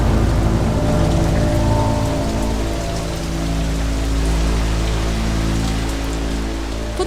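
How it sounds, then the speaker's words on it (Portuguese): Steady heavy rainfall pours onto surfaces throughout, with a low rumble of thunder rolling underneath during a storm over hillside homes; loud, continuous and with no voices. "Toda vez que esse barulho de chuva, de trovões começa,"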